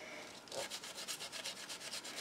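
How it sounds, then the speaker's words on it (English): A paint-loaded sponge is rubbed back and forth over a stencil on a small wooden craft bookcase, giving a faint, rhythmic scuffing of about a dozen strokes with no voices. "So now I'm just rubbing it."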